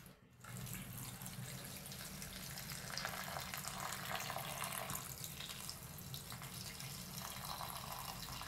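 Food rinsed under a running kitchen tap, a continuous rushing splash of water that starts abruptly and holds steady and close throughout, with no voices.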